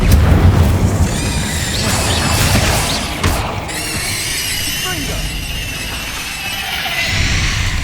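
An Incendio fire spell goes off in the Hogwarts Legacy video game, a loud booming blast followed by a sustained roaring rush with crackles and high ringing tones that fades a little before swelling again.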